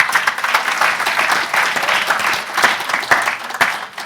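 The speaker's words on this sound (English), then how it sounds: "Final round of applause for them." A seated forum audience gives a closing round of applause for a panel of speakers, with brisk, irregular clapping and a few sharper individual claps standing out through the steady crowd noise.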